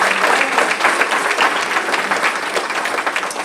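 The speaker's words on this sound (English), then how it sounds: "Let's give the Lord a clap of praise." Steady, dense applause from a large church congregation at a youth revival, loud and sustained throughout without pause.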